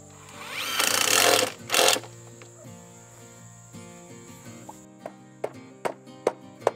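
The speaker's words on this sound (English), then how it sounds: "I'm gonna tack a screw just so it stays upright for a few moments." A power drill driving a screw into a wooden chicken tractor frame, two loud whirring bursts up close, followed by a series of sharp knocks and clicks.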